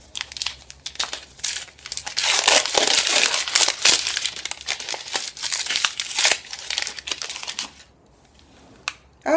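Wrapping paper on a gift package crinkling and tearing as it is opened, a busy stretch of close rustles and crackles that thins out near the end.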